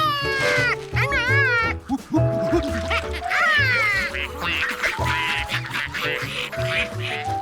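Cartoon ducks being fed quack repeatedly in an animated Curious George scene, their loud, close, wavering calls coming in bursts over a steady musical background.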